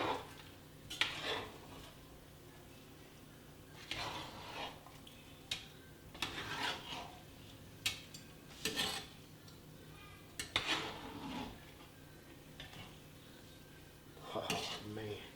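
A spoon folds rice through a pot of Cajun shrimp and sausage jambalaya, giving repeated scraping and clanking strokes against the pot every second or two, close and clear, with no talking.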